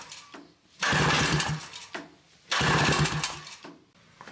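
Honda Odyssey two-stroke engine running rough and misfiring: two loud, uneven bursts of buzzing engine roar about a second and a half each, separated by quieter sputtering lulls, close to the microphone.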